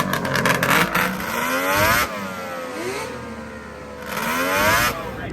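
Pro Stock 1000 engine warming up on grass at a snow bash event, loud and close, revving up and falling back in repeated pulls with a rough idle between them.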